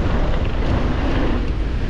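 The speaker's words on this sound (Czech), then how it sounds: "fouká teda zle." Strong, steady wind buffeting the microphone during a mountain bike ride on the Leogang trails, a loud continuous roar with no voices.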